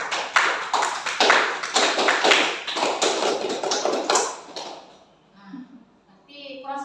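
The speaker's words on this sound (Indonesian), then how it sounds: "Tepuk pramuka." A group performs the Indonesian scout rhythmic clap, sharp crisp handclaps in a patterned rhythm, loud and close, stopping abruptly near five seconds before talking begins.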